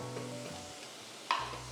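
Sliced onions frying in a pan for a meat masala roast, a soft steady sizzle with a brief clatter of stirring near the end.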